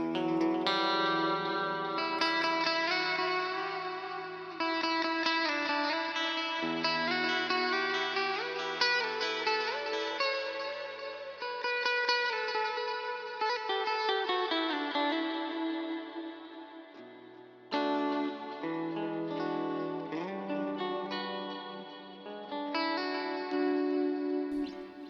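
A clean electric guitar on its middle pickup, a Jackson Matt Tuck signature model, plays a sustained, shimmering melody with chords ringing out, steady and unaccompanied, with a touch of chorus and reverb.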